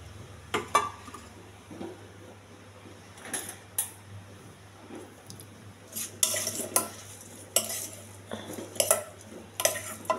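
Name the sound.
stirring cooked brown rice in a pot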